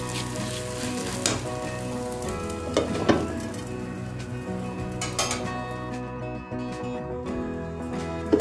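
A spinach roll fries in a pan with a steady, close sizzle that runs throughout, broken by occasional clinks of a utensil against the pan, and no one speaking.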